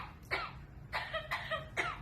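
A pet bird imitates coughing, producing three or four short, raspy cough-like bursts in quick succession, heard close and fairly quiet against a soft background hum.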